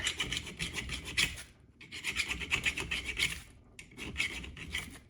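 A file rasps back and forth across wood in quick, rhythmic strokes, loud and close, in three bursts separated by short pauses, while sharpening or shaping a Council Tool Camp Carver axe.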